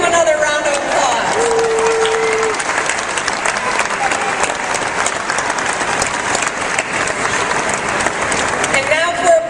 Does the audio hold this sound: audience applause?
yes